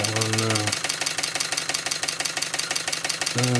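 A Markie GEM model road roller's small engine runs on compressed air, chuffing in a fast, even rhythm up close with a faint tick. A brief tonal hum sounds at the start and again at the end.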